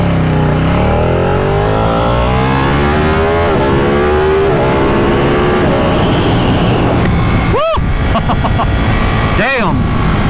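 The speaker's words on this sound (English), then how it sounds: "I think it's the sound of this engine," A loud Ducati 959 Panigale V-twin motorcycle engine revs continuously, its pitch climbing steadily through the gears, with sharp rising whines of passing vehicles near the end.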